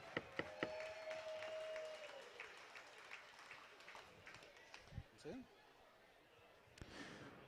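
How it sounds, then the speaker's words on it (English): An audience at an NCHA Foundation western heritage event applauds, a fairly faint, steady patter of clapping that tapers off midway, with a few sharper knocks and brief voice sounds near the end. "by a round of applause, how many fans of Yellowstone do we have in the house tonight?"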